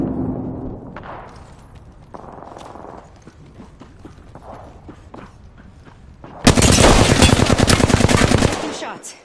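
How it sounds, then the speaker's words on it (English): Video game gunfire: scattered light shots and clicks give way to a loud, sustained automatic burst of rapid shots that fills the last few seconds, close and dominant, with no talking. "Taking shots."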